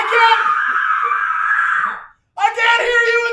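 Audience at a live puppet revue screaming: a long sustained shrill scream from a crowd, a brief silence, then another burst of loud screaming and voices, close and intense.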